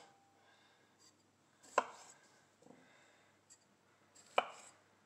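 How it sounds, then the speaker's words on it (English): A knife halves large cherry tomatoes on a cutting board, two sharp chops about two and a half seconds apart with softer slicing noises between them, near and quiet, with no talking. "As the size of this cherry tomato is quite big, I cut them in the half."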